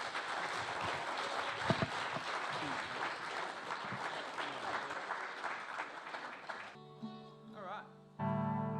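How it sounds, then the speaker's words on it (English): Audience applause welcoming the folk-blues duo Above the Bit on stage, a steady dense clapping from a crowd that fades after about seven seconds as instruments begin tuning and sounding. "So please give them a round of applause."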